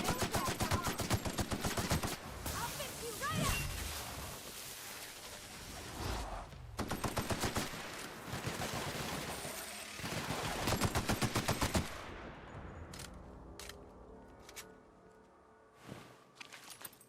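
Player's gun firing in the video game Monarch, in dense rapid bursts for about twelve seconds, then a few scattered shots and ambient game sound.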